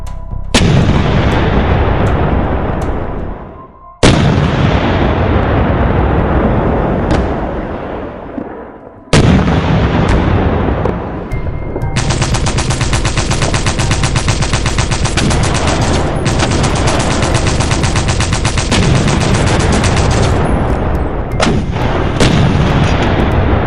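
Heavy artillery bombardment, loud and sustained, with booming blasts at the start and again around four and nine seconds, followed by continuous rapid gunfire rattling over the rolling barrage; no voices.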